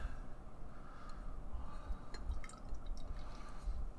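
Shape Shift triple IPA from Anchorage Brewing Company poured into a glass, giving a steady close liquid splash and fizzing trickle with faint dripping throughout, no talking.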